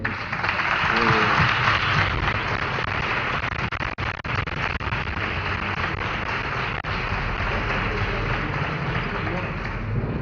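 Audience applause fills a parish hall at a brotherhood's lecture, dense steady clapping that holds loud for about ten seconds with a brief dip near the middle.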